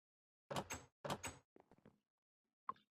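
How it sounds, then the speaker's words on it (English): Doors shut in the Minecraft video game: two loud crisp clunks in quick succession, then a few quieter clicks and a final short click, all isolated against silence. "Let's shut these doors right off the bat."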